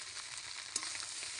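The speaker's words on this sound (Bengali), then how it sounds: "এবার আমি নাড়াচাড়া করে নেব।" Biryani with meat frying in a pan gives off a close, steady, loud sizzle, and a single stirring clank sounds midway.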